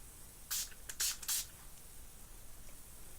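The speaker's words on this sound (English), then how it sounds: "I'm just going to set my makeup with the Urban Decay All Nighter Setting" Three quick hissing spritzes of Urban Decay All Nighter setting spray in close succession, then quiet room tone.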